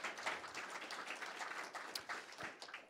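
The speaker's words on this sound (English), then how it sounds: "One more round of applause." Scattered clapping from an audience, a steady patter of many hands at moderate volume with no voices over it.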